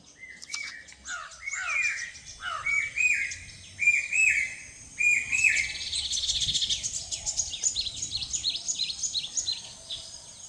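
Common iora calling in the Cauvery Delta, a series of clear whistled and chirping notes in repeated phrases, fairly close, over a faint background of buzzing insects.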